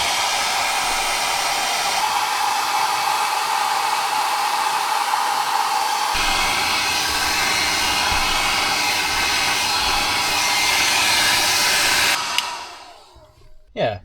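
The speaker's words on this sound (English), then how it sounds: "I'm going to try a hairdryer first." A hair dryer blows hot air with a loud, steady whoosh for a long stretch while drying a car's interior, shifting pitch partway through, then cuts off abruptly near the end.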